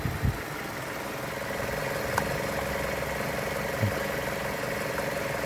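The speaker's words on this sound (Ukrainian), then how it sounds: "Шипоче двигунчик." A 2006 Mazda6 2.0 petrol engine idles steadily with a low mechanical hum and a faint hiss, with a couple of soft knocks near the start and toward the end.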